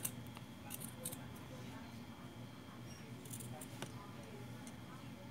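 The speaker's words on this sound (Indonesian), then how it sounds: "lalu kita cekris saja nih di sini, kita gunting, kita kecilin kampungnya" Scissors snip through fabric while a suit pocket is being sewn, several quiet, close cuts spread irregularly over steady room noise.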